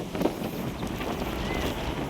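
Wind gusting steadily at the seaside in Sorsogon City, with trees nearby, a broad soft rush with no voices.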